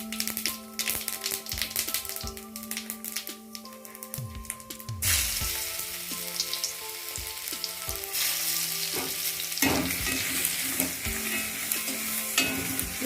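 Garlic and cumin sizzle in hot oil left over from frying paneer for palak paneer, with scraping and tapping stirring throughout. The frying grows louder and fuller partway through and is heard close up with no talk.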